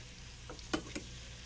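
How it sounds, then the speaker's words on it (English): Onions and garlic with seasoning being stirred in a pan, a faint sizzle with a few brief spoon scrapes near the middle, quiet and close with no voices. "you just want to just stir it around. Get that seasoning mixed up with them onions and that garlic."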